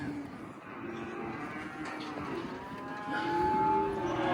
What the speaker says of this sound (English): I like those white cows.